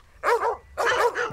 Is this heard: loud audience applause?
no